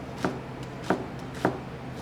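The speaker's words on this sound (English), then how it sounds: "I'm just going to fold the onion over, make it flat so it's easier for us to cut" A knife chops through an onion onto a cutting board in three evenly spaced, crisp thuds, close and clear against a quiet background.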